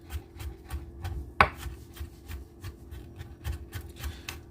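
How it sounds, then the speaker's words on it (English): A knife chops and dices garlic on a cutting board in a rapid, steady run of close, moderately loud taps, with one sharper knock partway through and no voices. "Make sure you get your garlic diced up really well."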